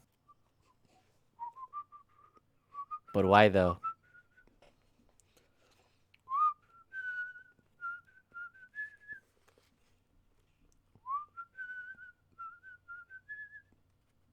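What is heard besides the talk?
person whistling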